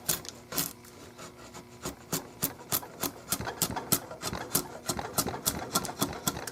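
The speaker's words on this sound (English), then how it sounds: "you can really pull off a lot of wood with a draw knife" A draw knife shaves wood from an H&R Model 12 target rifle stock in a series of quick, rhythmic rasping strokes, close and fairly loud, with no talking.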